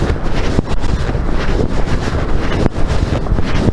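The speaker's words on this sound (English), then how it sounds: "it's so much windy out there" Strong wind blowing outdoors, buffeting the microphone in loud, continuous low rumbling gusts with brief dips, and no talking.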